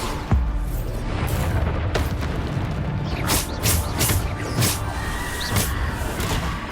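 Repeated booming blasts from the Bombarda explosion spell in the video game Hogwarts Legacy, loud and close, several bursts landing over rumbling game noise.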